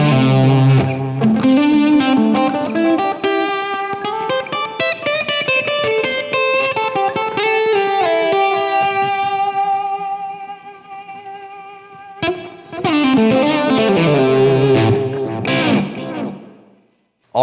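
Heavily distorted electric guitar through a noise gate on a humbucker pickup, with chorus and echo effects, playing loud chords and a sustained line that cut off cleanly into silence between phrases.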